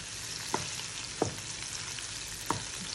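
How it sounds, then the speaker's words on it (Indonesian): Squid frying in a pan for a home-cooked meal, a steady broadband sizzle with three sharper spitting pops spaced through it, close and fairly loud with no talking. "ni tengah goreng. Dia sotong."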